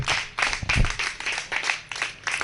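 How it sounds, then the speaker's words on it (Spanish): Congregation applause during a Spanish-language church service, rhythmic clapping in regular pulses of many hands, moderately loud and roomy, with no speech over it. "Denle un aplauso al que vive y reina."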